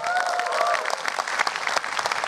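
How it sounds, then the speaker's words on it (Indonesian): Audience applause at an Indonesian stand-up comedy show, a dense steady burst of clapping from a crowd that carries through the whole moment, with a faint voice over it near the start. "Sekali lagi boleh tepuk tangan buat Joshua."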